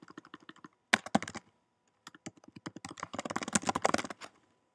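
Typing on a computer keyboard while entering install commands for OpenStack clients, with quick clustered keystrokes in bursts, a brief pause near the middle, then a denser run of clacks, close and fairly quiet.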